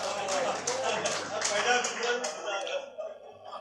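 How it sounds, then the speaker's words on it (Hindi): Audience applause for a poet at a mushaira at Islam Gymkhana in Mumbai: dense, steady crowd clapping with rhythmic bursts, fairly loud and continuous, with voices mixed in underneath. "जोरदार तालियां यूसुफ अबरानी साहब के लिए"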